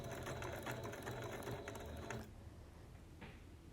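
Sewing machine stitching quilt binding along a fold, a steady close mechanical whir with rapid needle rhythm that runs for about two seconds and then stops, leaving quiet room tone.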